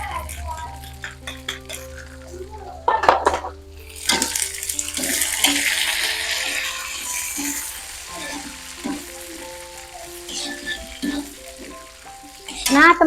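Spice paste with red chilies and spices is stirred in a sizzling pan, a spoon scraping and clinking against the metal in short strokes while someone talks over the frying.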